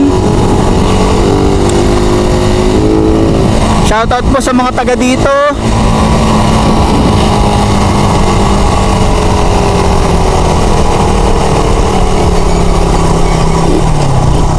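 A motorcycle engine hums steadily under rushing wind while riding a wide road near Tuy, Batangas, with someone speaking briefly near the middle.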